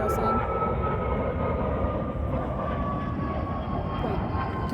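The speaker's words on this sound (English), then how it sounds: "Wait, can I get this airplane?" A fixed-wing airplane passes overhead as a steady, continuous engine roar and broadband rumble, fairly loud and constant throughout, with faint tonal whine layered on top and no talking.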